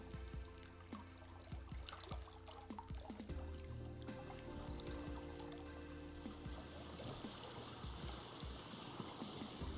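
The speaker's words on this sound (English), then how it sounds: "Let me just turn down the ambient water noise, because wow, it's loud." Running water trickles and streams steadily in the game Vintage Story, a constant watery wash with scattered drips and splashes, moderately loud and with no voices.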